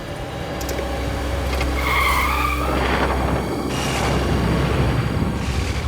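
Car on a jungle road at night suddenly faltering and breaking down, with a rough engine roar and tire skid noise, continuous and fairly loud, no talk.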